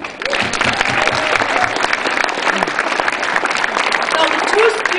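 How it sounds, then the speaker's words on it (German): An audience at a school Bookbridge Day event applauds two students, producing sustained, loud, dense clapping that fills the hall for several seconds, with some voices and cheers audible underneath. "Bitte einen Applaus für Luisa Roman und Damien Lucky."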